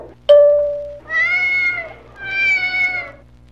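A cat-like alien creature in a Star Trek audio drama gives three clear, drawn-out meows, one short and sharp followed by two longer wavering calls, close and loud over a quiet background hum.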